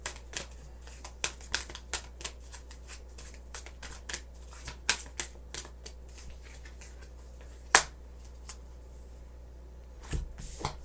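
A Moonology tarot deck being shuffled, with a string of soft, brief card clicks and riffles scattered at an irregular pace, one sharper snap near the middle, over a steady low hum.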